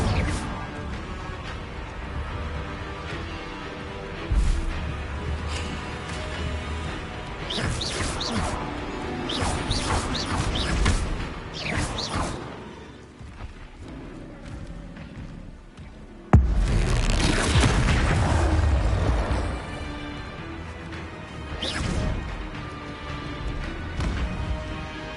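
Fire spells cast in Hogwarts Legacy, loud bursts and crashing whooshes that come in clusters, with a big sudden blast about two-thirds through over a steady game backdrop.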